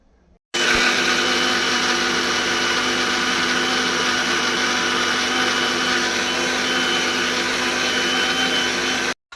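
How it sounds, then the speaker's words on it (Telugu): A mixer grinder whirs loudly and steadily for about nine seconds as it blends chutney with a little salt, starting and stopping abruptly, with no talking. "ఇప్పుడైతే మిక్సీకి అయితే పట్టేస్తాను"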